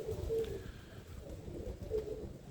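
Roller pigeons cooing in a loft, a couple of low soft coos spaced a second or so apart, faint and close, with no one talking.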